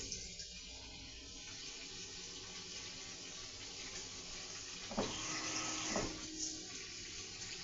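Tap water running into a spray bottle being filled with a vinegar and water mix, a steady hissing stream with a couple of brief clunks near the end.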